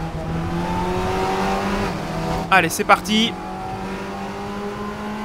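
Race car engine in Raceroom with a push-to-pass boost, droning steadily at high revs, then briefly surging as it accelerates, with a short burst of speech over it.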